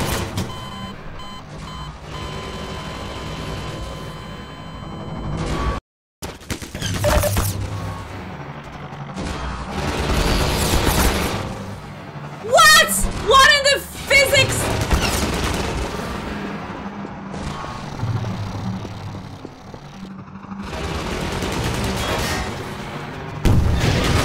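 Rapid gunfire shooting down incoming missiles in a video game: loud bursts of automatic shots and booms over a dense, rumbling game soundscape, with a brief dropout and sharp electronic chirps mid-way.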